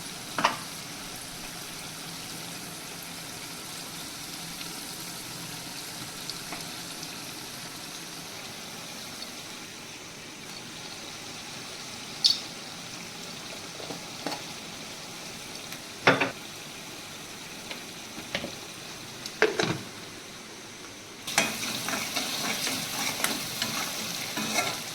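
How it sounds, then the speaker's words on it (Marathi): Masala fries for a Konkan village-style clam curry with a quiet, steady sizzle. A spoon stirs and scrapes it in occasional sharp clinks, and the sizzle grows louder and brighter near the end. "थोडा मसाला फ्राय."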